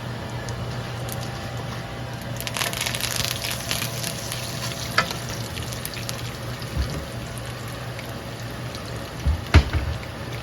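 Curry leaves sizzling in hot oil with okra, a steady crackling hiss close by with a few sharper pops and spits, no voices over it.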